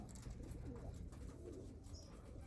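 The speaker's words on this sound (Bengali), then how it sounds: "একদম টপ ক্লাস জোড়া মঙ্গলাগিরি লাইনের পায়রা আছে।" Andhra Mangalagiri line pigeons, a pair of breeding birds, coo steadily at close range with low, rolling throaty calls that carry on throughout without a break.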